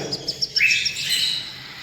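Birds chirp in quick, high repeated bursts, followed by a brighter, sustained twittering that carries on steadily; close and fairly clear, with no voices.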